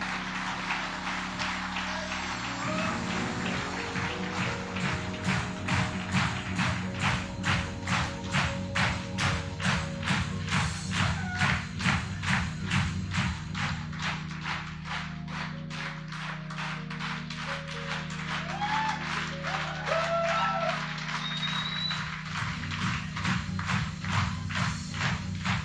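Audience at a seminar claps in steady, rhythmic unison for a long stretch, dense repeated hand claps close and loud, with faint chatter and music-like tones underneath.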